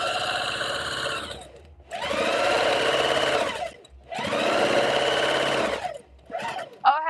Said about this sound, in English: So I'm sewing today.